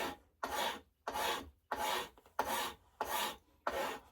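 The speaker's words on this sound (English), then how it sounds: "If I got to do some little heavier stuff, I mean, you could get in here and use the file" Fine hand file rasping across the wooden stock of a Pedersoli Brown Bess musket kit, seven even back-and-forth strokes in a steady rhythm, close and distinct with short silent gaps between them.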